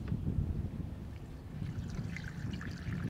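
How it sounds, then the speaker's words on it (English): Windshield washer fluid pours into a car's reservoir in a faint, continuous gurgling trickle that runs for a few seconds before stopping abruptly. "You're just gonna pour it right in."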